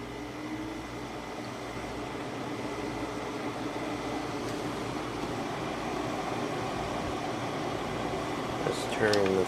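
A Windmill 6000 BTU window air conditioner with a GMCC compressor runs with a steady whirring fan and low mechanical hum at a constant moderate level, ending in a brief clatter.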